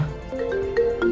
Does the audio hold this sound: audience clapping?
no